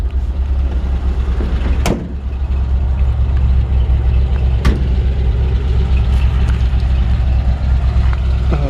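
A 1953 Ford F-100 pickup with a flathead engine and downturned exhaust idles in a steady low rumble, close by, with a couple of sharp clicks or knocks.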